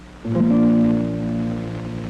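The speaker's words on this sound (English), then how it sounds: "by plucking over the fingerboard, we can get a very mellow sound" A single soft, mellow guitar note is plucked over the fingerboard and left to ring, fading slowly with a warm, rounded tone and no other sounds.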